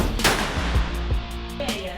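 Gunshots at a shooting range crack out in a few sharp, loud reports spaced within two seconds, echoing over a busy background.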